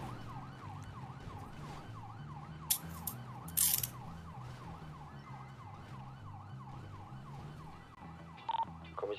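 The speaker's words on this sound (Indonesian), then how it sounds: "Sirine di atas loh." A police motorcycle siren wails in steady rising-and-falling sweeps during a hot pursuit, over a low engine drone, with a few brief clicks and bursts along the way and no voices.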